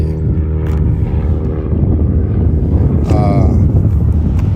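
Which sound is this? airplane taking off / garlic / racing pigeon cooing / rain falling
airplane taking off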